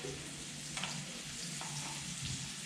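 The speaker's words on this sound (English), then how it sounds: "Give it another quick stir." Hakurei turnips with their greens and garlic sizzle in a pan as they are stirred. The frying hiss is soft and steady, with a few brief scraping strokes of the stirring over it.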